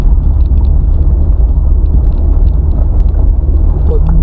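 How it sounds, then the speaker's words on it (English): A car muffler rumbles steadily from inside the moving car on a road in St. Elizabeth, Jamaica, a constant loud low grumble with wind buffeting, heard without speech. "Sorry about the little loud sound in the background because that's the car muffler."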